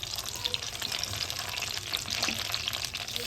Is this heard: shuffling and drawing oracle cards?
no